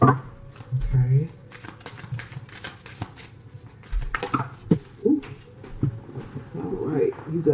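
Tarot cards are shuffled by hand in quick riffling and tapping bursts, close and clear, with some cards spilling out. A person talks in between and over the shuffles.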